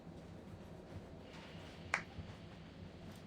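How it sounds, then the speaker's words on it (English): A single sharp clap from a stewardess in a video game, brief and crisp against a quiet, low background hum. "The stewardess claps her hands"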